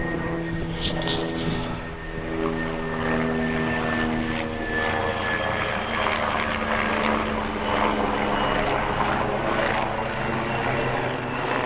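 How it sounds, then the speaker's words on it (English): A helicopter flying overhead during outdoor relic hunting, a loud, steady droning engine and rotor roar with a faint whine, continuous throughout. "that sounds like one heck of a helicopter"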